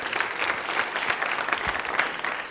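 Studio audience on a Rajasthani television quiz show breaks into steady, moderately loud applause, a dense wash of clapping that continues evenly throughout.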